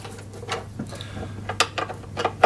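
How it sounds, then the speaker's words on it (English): A crosshead screwdriver works screws out of the plastic cover of an HYM430SP self-propelled petrol lawn mower, with close, short clicking and ratcheting scrapes in irregular bursts. "To remove this cover, use a crosshead screwdriver"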